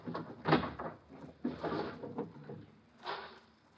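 A kitchen drawer slides open and shuts in an old radio-era sitcom scene, with a few woody scrapes and knocks heard close and moderately loud in a quiet room.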